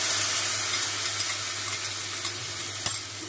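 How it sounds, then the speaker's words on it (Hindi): Onion mixture for a Rohu or Katla curd fish dish stirred in a hot pan, a steady close sizzle with scraping stir strokes and one sharper clink near the end, no talk. "तो अभी आप देख सकते हैं हम लोग इसके अंदर इसको मिक्स कर रहे हैं।"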